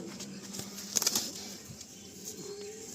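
Pigeons are released from hand. A brief burst of wing flapping comes close by near the start, followed by softer fluttering and faint bird sounds against a quiet background.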